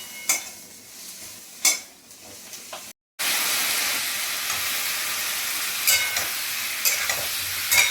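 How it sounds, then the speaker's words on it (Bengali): Spices with turmeric and dried chili powder sizzle in a pan for a fish curry with potatoes, a few sharp stirring scrapes at first, then after a brief gap a loud, continuous frying hiss with occasional utensil clicks. "শুকনো লঙ্কার গুঁড়ো দিয়ে আমি ভালো করে একটু কষে নেবো"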